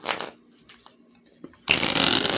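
Cards being shuffled up close: soft scattered riffles at first, then a loud continuous burst of rapid flapping cards near the end.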